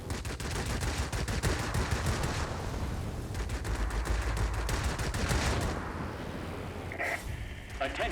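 An XF4U-6 fighter's guns rattle in rapid, loud sustained bursts during flight combat in a game, over a deep engine drone, tapering off near the end as a brief radio voice comes in.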